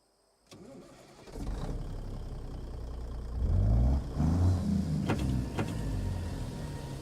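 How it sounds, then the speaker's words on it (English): Truck engine in American Truck Simulator cranking and starting, then settling into a low rumbling idle with a brief rev, accompanied by faint interior clicks. "let's climb in the truck, get her fired up, and let's do some trucking"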